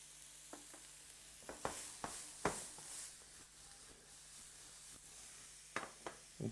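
Onions sizzling in a hot pan, a steady soft fry with scattered crackles and a few louder stirring clicks, close and alone with no talk.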